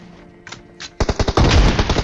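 Shotgun blasts in PUBG Mobile, a quiet lead-in with a couple of faint clicks and then a rapid run of loud, close booming shots in the second half.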